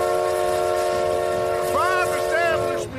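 In an audio drama scene, a train pulls out of a station, sounding a long, loud, sustained whistle whose tone bends and wavers near the end before cutting off, over a low rumble of the train.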